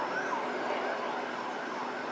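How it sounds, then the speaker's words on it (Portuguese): A fire truck siren wails steadily at an accident scene on a city road, continuous and moderately loud with a faint rising and falling pitch, alone without voices. "E lá está, ó, a sirene do bombeiro."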